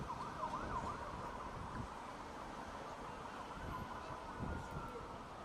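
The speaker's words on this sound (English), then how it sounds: "We are hearing sirens on the Jerusalem feed." A wailing air-raid siren in Jerusalem rises and falls in the distance, steady and moderately faint, with low traffic rumble underneath and no one talking.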